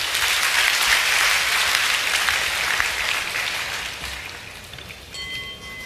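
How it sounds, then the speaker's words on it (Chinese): Audience applause at a Buddhist Acalanatha homa fire ceremony and dharma talk: a dense, sustained wash of many hands clapping that holds steady, then gradually thins and softens toward the end. "我们再次以热烈的掌声，感谢师尊精彩宝贵的传法开示。"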